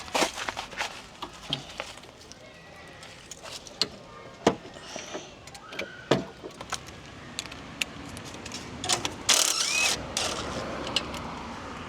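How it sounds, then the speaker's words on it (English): Socket and breaker bar working a snug front sway bar link nut on a 2013 Ford Focus, giving scattered metallic clicks, knocks and clanks at irregular intervals, close by, with a louder rattling burst near the end and no speech. "we're going to get a socket onto it and a breaker bar and give it a little bit of a push"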